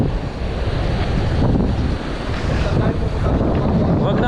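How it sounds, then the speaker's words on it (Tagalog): Big ocean waves surge and crash at sea in a continuous loud roar, with heavy wind buffeting the microphone from a small boat. "Malalaki ng alon."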